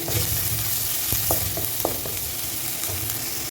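Tomatoes sizzle and crackle in a hot pan, with a few soft scrapes of stirring throughout.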